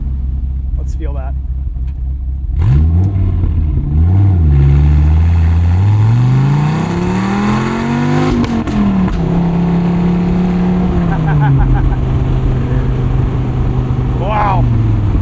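A 2004 Dodge Viper SRT-10 engine revs hard in first gear, its deep note climbing steadily in pitch as the car accelerates toward 60 mph, loud and close with a brief lift before settling into a steady drone.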